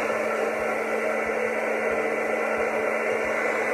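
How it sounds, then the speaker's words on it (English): A blow dryer set to low heat and low speed runs as a continuous, steady whooshing drone with a faint tonal hum, loud and close, unchanging throughout with no voices. "The blow dryer. Low heat, low speed."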